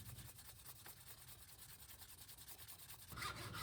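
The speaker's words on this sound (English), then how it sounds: "I use a coarser grit sandpaper to remove the finish and a finer grit to smooth out the surface again." Coarse sandpaper scrubbing the old clear coat finish off a wooden whip handle, a steady, close, continuous rubbing with a brief louder burst of strokes at the end.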